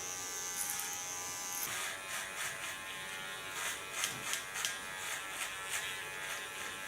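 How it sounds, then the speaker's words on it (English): An electric barber clipper buzzes steadily while cutting hair for a festive cut-and-colour styling, close up, with a continuous hum and brief rhythmic pulses as it passes through the hair. "The one that I just worked with is a barber clipper."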